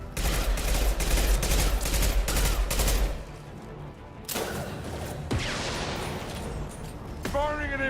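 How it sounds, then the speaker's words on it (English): Impact shot gunfire in the Mass Effect 2 video game: dense, loud rapid shooting for about three seconds, then scattered bursts and mechanical clatter amid battle noise, with voices talking over it. "Firing an impact shot."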